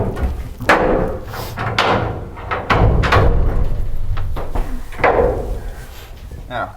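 A heavy steel bomb shelter door is swung shut and bolted, producing a series of loud thuds, clanks and metallic slams spread over several seconds, with a voice talking in between.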